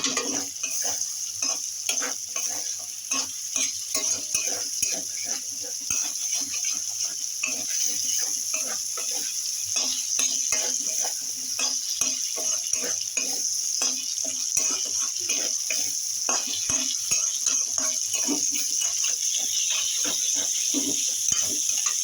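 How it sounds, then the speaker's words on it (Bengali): Drumsticks (moringa pods) tossed into spices frying in hot oil for a Bengali fish curry, a continuous close sizzle with irregular clicks and scrapes of stirring throughout, no talking. "এই সময় এই সজনে ডাঁটাগুলো আমি দিয়ে আর একটু নাড়াচাড়া করে নেব।"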